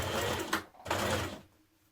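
Sewing machine stitching a seam while sewing a Simplicity 8602 top, a steady close mechanical whir running in two bursts with a brief pause between, then trailing off.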